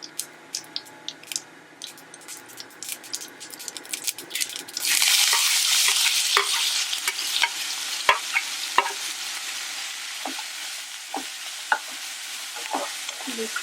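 Onions frying in a pan for Hyderabadi mirchi ka salan, a loud steady sizzle starting partway through after scattered stirring clicks and taps, continuing with occasional utensil knocks.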